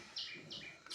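A bird at a window gives three bright, close chirping calls in quick succession, loud and alone.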